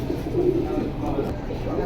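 A group of five pigeons, three males and two females including red ones, coo in low, soft, continuous murmurs close by.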